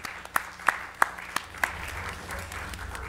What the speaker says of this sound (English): we should have pauses for applause in between